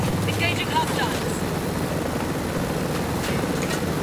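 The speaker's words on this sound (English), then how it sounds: "Helicopter." Helicopter in the shooter game Ghost Recon Breakpoint, a steady rotor thrum and engine drone beneath ongoing game noise, with a voice talking over it.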